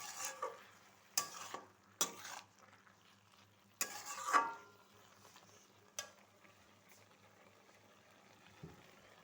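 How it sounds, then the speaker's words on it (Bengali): Poppy seeds being stirred in a pan for lau shukto make faint, scattered scraping and rustling strokes, a few short bursts separated by near-silence. "পোস্তটা দিয়ে আবার একটু নাড়াচাড়া করে নেব।"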